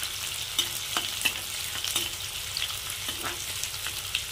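Onions frying in a pan of hot oil with cumin seeds, a steady crackling sizzle with occasional stirring clicks, close and alone with no voices.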